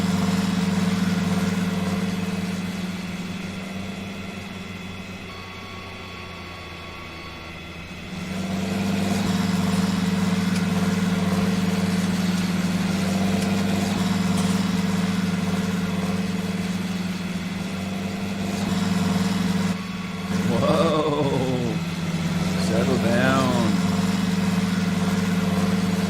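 Tractor engine idling in Farming Simulator 19, a steady low droning hum that holds throughout, dips briefly, then returns with a couple of rising and falling whines near the end.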